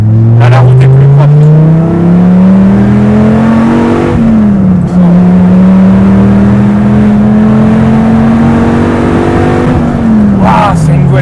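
Dodge Viper SRT-10 V10 engine accelerating hard in a loud, close drone that rises, dips briefly near the middle, then climbs again through the gears, with a voice talking over it.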